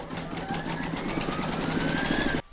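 An embroidery machine stitches an in-the-hoop pumpkin, a close, steady rapid mechanical hum with rhythmic needle pulsing that runs continuously before stopping abruptly.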